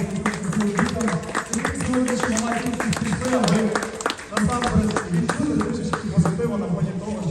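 Applause at the opening of a children's sports playground for orphans in Lviv, sharp individual claps ringing out beneath ongoing voices and talk.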